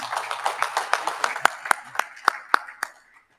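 Audience applause fills a hall at an awards ceremony in Doha, steady clapping that rises into a run of sharp, louder claps before dying away at the end.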